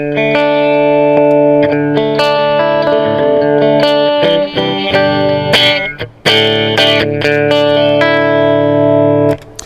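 An electric guitar played through a compressor pedal plays sustained chords and melodic runs with an even, compressed tone and a touch of reverb, loud and without talking.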